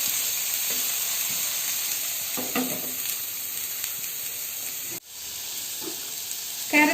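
Carrots and other vegetables sautéing in a pan for a spring dosa filling give a steady, close sizzle and hiss, with a few soft stirring scrapes and no talking.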